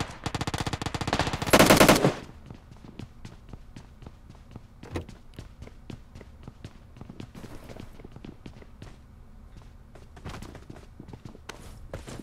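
Automatic AK rifle fire in a battle royale video game: a loud two-second burst of rapid shots opens, followed by scattered sharper single shots and quick footstep-like taps over a low ambient bed.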